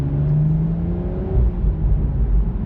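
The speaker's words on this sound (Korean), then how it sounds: "이런 배기음과 함께 팝 사운드, 뱅 사운드를 듣고 싶어지기 때문인데요" A 2024 BMW Z4 M40i's exhaust drones loudly and close, its tone sliding down as revs drop, with low rumbling throughout and no voices.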